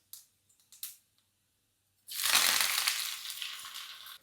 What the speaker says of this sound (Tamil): எண்ணெய் காஞ்சிருச்சு, நம்ம கடுகு போட்டுக்கலாம். நான் சின்ன வெங்காயம் கருவேப்பிலும் எடுத்து வச்சுக்கிறேன்,